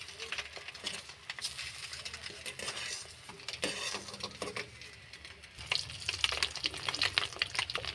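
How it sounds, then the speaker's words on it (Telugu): Eggs fry in a pan, a quiet crackling sizzle broken by spatula scrapes and light clinks against the pan, growing busier toward the end. "1 సైడ్ ఫ్రై అయిపోయినాయి. ఇంకో సైడ్కి టర్న్ చేసుకున్నా."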